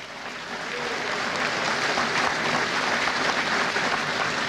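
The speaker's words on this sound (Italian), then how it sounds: "Signori, ancora un applauso per Luigi Penna, forza." Audience applause in a hall, a large crowd clapping steadily, swelling slightly and holding at a strong, even level before cutting off abruptly at the end.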